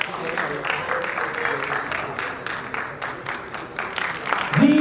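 Audience clapping at a theatre festival award ceremony in a hall, a steady moderate applause sustained throughout, with a louder burst near the end.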